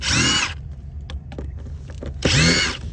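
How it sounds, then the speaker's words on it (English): Screws backed out of an RV tail light housing, with a cordless drill whirring loudly at the start and again at the end, separated by clicks and handling noises. "Hey, we're gonna unscrew it."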